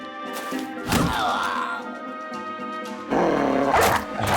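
In the medieval strategy game Battle Brothers, a dog gives two loud, separate barks with thudding impacts, alone and with no talk over it.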